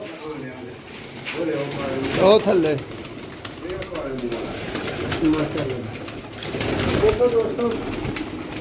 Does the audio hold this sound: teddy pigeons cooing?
yes